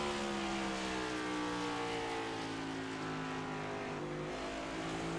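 On-board race car engine at North Wilkesboro, a loud sustained roar with rising and falling harmonic drone as the car runs among other cars, continuous for the whole stretch.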